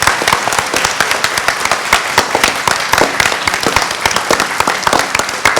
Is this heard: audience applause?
yes